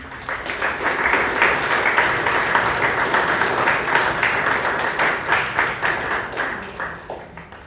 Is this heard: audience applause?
yes